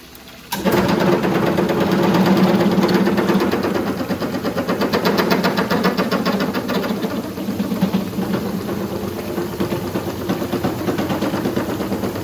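A lens is ground and polished against rough sandpaper on a motorized machine, producing a steady whirring hum with fine rhythmic pulsing that carries on continuously with no talking.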